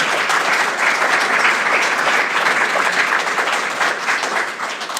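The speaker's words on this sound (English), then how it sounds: "let's start off by giving them a round of applause for participating in the arena" A school board candidates forum audience gives a sustained round of applause: dense, steady clapping from many hands fills the room at an even loudness for about five seconds, easing slightly at the end, with no talking over it.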